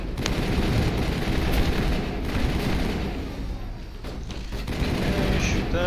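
Dense gunfire in Mass Effect crackles almost without pause, a loud close barrage of overlapping shots and booms that swells and eases slightly throughout.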